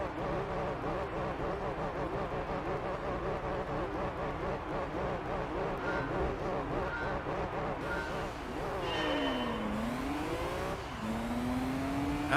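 A race car engine in the video game Gran Turismo 3 revs high and steady, then drops and climbs again through gear changes, loud and close, with faint talk over it.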